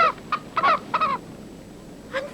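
Chickens give a few short, nasal clucks in quick succession, fairly close, then pause before one more brief call near the end.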